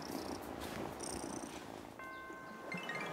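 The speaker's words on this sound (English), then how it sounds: "Oh, such a good cat." A cat purring in the video game Wylde Flowers, a soft steady rhythmic rumble close by, alone with small chiming game tones toward the end.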